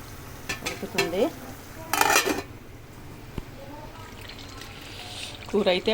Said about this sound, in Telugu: కొంచెం సిమ్లో పెట్టాను కదా, అందుకనే కొంచెం స్లోగా ఉడుకుతుంది